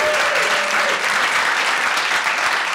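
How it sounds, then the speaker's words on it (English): Loud, dense applause from a large crowd at a live podcast recording at a festival in Gainesville, steady and sustained throughout with no talking over it. "Give yourself a round of applause"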